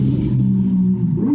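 Motorcycles pass by on a street outside during a car throttle body cleaning, their engines giving a steady, loud droning rumble that rises slightly in pitch near the end, with no talk.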